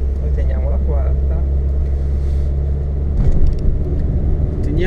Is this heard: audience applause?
no